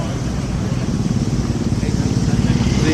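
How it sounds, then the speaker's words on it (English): Motorcycles rumble along a road beside the Sacred Monkey Forest in Ubud, Bali, a continuous low engine drone that swells slightly as they pass. "motorcycles are a little bit annoying."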